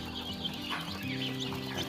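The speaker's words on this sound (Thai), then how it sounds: "จะพามาชมลูกไก่ไข่ไว้เล็กฮอนนะครับ" Busy chorus of White Leghorn chicks peeping and cheeping continuously, with overlapping high chirps and some low background hum.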